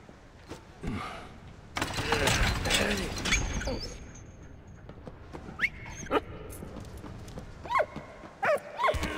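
A dog barks in Valiant Hearts: The Great War, a World War I video game, with sharp yips and yelps scattered among mechanical clanks and rattling game effects, no speech.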